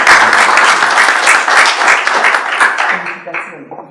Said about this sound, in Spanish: Otro aplauso, por favor.